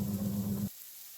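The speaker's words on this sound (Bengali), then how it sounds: "লাল শাকটা ভাজা হোক" Red amaranth greens frying in a pan, a steady close sizzle heard alone for under a second before it cuts off to near silence.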